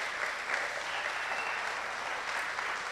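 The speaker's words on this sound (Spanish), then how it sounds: "Denle un buen aplauso a Dios." A church congregation applauds during a Spanish-language sermon, steady dense clapping from a crowd that carries evenly throughout, moderately loud with no voices over it.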